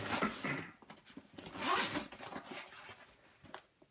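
A heavy-duty No. 2 zipper on the main compartment of a large Travelpro FlightCrew5 crew cooler being pulled open, a close, loud ratcheting rasp in several quick strokes, with no talking.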